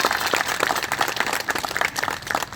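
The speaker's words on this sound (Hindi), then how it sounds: "जोरदार ताली से स्वागत करो, जोरदार अभिनंदन।" An audience claps at a religious gathering honouring Guru Ghasidas, a dense burst of many hands that holds steady for the whole stretch with no pause.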